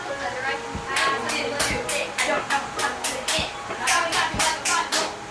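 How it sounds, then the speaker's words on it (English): A few people clap in short bursts at a family gathering, separate sharp slaps spaced in an uneven rhythm, close by, with voices talking in the background. "I just told her stop clapping like a 5-year-old."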